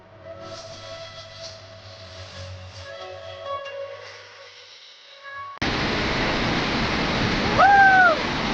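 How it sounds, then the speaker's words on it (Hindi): The Yamuna river rushes beneath the Yamunotri temple in Uttarakhand as a loud, dense, steady roar of water that begins abruptly partway through, after a quieter stretch of ringing tones, with a brief whistle-like chirp near the end. "और यमुना नदी की भी आवाज़ आपको आ रही होगी, बहुत प्यारी सी यहाँ से।"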